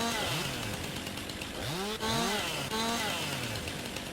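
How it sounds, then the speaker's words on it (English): A chainsaw in Farming Simulator 19 cuts up tree limbs, its engine whining loud and close and rising and falling in repeated revs as the blade bites. "Chainsaw seems kind of fidgety when it comes to cutting up limbs."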